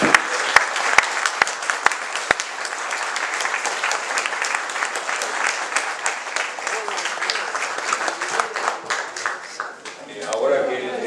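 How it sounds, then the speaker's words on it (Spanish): Dense audience applause closing a conference on liberation theology, many hands clapping loudly and steadily, with a few sharp isolated claps at the start, then fading near the end as a voice begins. "los invito a que cerremos con un aplauso"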